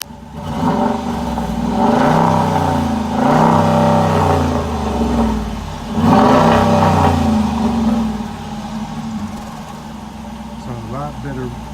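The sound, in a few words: Dodge RT 5.7 Hemi engine revving, Thrush Rattler exhaust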